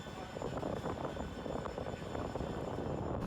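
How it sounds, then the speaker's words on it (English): Cabin of a Ryanair Boeing 737-800 taxiing at Dublin, a steady low engine rumble and broadband roar with faint rattles, continuous and moderately quiet from inside the aircraft. "And here's the taxi and takeoff part of the video."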